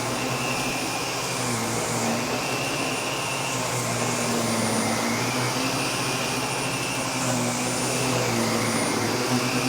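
A Miele vacuum cleaner running with an EBK powerhead and open brush roll on carpet, a steady, loud whining motor drone with a constant airy rush and low hum, unbroken throughout.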